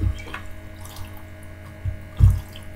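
Water sloshes and splashes in a filled tub holding a bikini bag, with a few louder low splashes amid quieter trickling and a faint steady hum.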